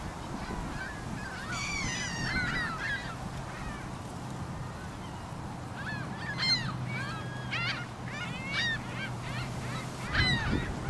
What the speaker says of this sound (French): c'est pas des canards, c'est des oies de bernache